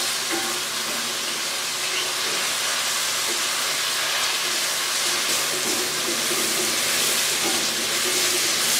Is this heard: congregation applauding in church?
no